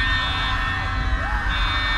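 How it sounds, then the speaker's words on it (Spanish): An alarm in the horror video game Poppy Playtime Chapter 3 blares continuously at a high steady pitch, loud and constant for the whole stretch, with faint sweeping tones beneath it. "¡Ay, está sonando una alarma!"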